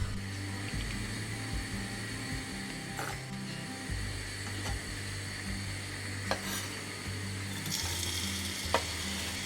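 Onions and garlic cook in olive oil in a small pot, a continuous close sizzle with occasional scraping and clicking of a utensil against the pot.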